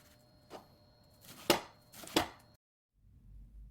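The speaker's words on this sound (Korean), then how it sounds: "먼저 양파를 다져주시고요" An onion being chopped with a knife on a board: three sparse, sharp chops spaced about a second apart, then quiet, with no voices.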